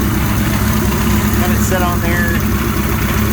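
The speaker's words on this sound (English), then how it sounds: "Trying to run all the gas out of the carburetors." A Suzuki GS 1100E motorcycle engine idles with a steady, close rumble being run to drain fuel from its carburetors, while someone talks over it throughout.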